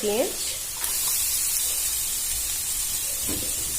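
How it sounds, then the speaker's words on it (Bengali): Chopped onions sizzling in a pan for a bitter gourd chorchori, with a steady hiss of frying and occasional stirring scrapes; a voice is heard briefly over the sizzle. "পেঁয়াজগুলো দিয়ে ভালো করে নাড়াচাড়া করে ভেজে নেব"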